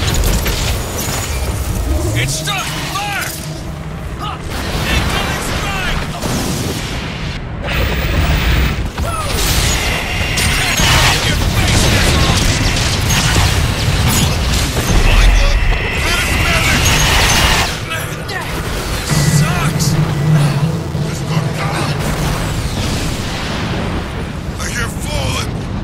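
Artillery strike explosions in a video game, with heavy booms and crashing impacts rolling on continuously over a dense, loud mechanical din of battle, and voices heard in between.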